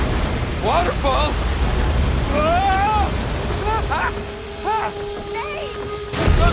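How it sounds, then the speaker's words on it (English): A waterfall in the video game Uncharted 4 gives a steady broadband rushing roar that runs through the whole clip, while characters shout over it. "Waterfall! Waterfall!"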